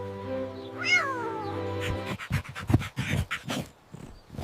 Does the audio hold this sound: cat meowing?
yes